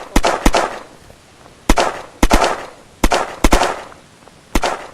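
Gunfire in the video game Unturned: sharp shots in quick pairs and triplets, loud and close, with short pauses between the bursts and no talking.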